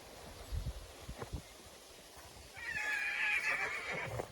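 Mares kept with their foals inside an electric-fence paddock; a few soft thuds and rustles come first, then one loud, close whinny rings out for over a second.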